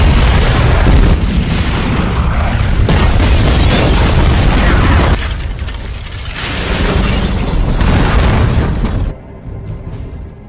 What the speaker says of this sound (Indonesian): mobil yang digunakan Stephen langsung meledak saat itu juga